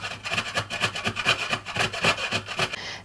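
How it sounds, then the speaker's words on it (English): A carrot is grated by hand with fast, rhythmic rasping strokes, about four per second, close up and steady with no voices. "So the first thing we're going to want to do is begin grating our carrot and apple."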